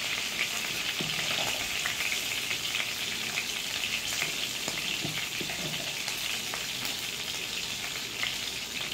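Seven or eight green chillies fry in hot oil in a pan, making a dense continuous sizzle and crackle at a steady level from start to end, with a few faint stirring clicks and no voices.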